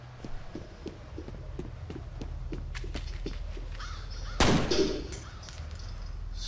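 Crow cawing in the video game F.E.A.R., a rhythmic run of harsh caws against a steady low ambient rumble, with a louder burst of noise near the end.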